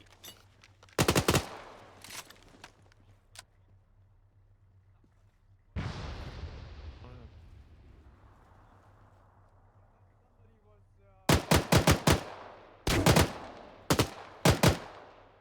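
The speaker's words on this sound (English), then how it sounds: "I'm just shooting behind that fence." Gunfire in the military shooter Arma 3: a sharp burst of shots, a lone blast with a long echoing tail, then several tight rapid bursts of automatic fire, loud and close, with no talk during the shooting.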